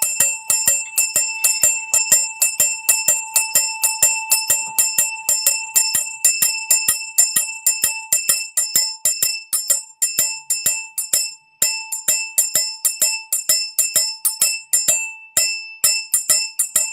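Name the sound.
bell rung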